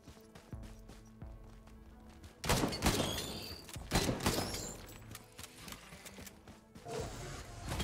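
A shotgun fires in the video game Risk of Rain 2 in several sharp, punchy blasts mixed with other game effects, louder bursts clustered in the middle, fairly quiet overall.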